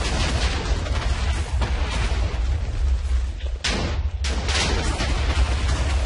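Rapid chains of TNT blocks detonate in Minecraft, a dense, continuous roar of booming explosions with a brief gap midway, loud and close, with no talking.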